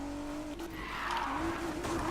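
A BMW car drives fast, its engine note holding and then climbing as it accelerates, heard fairly quietly and alone with no talk.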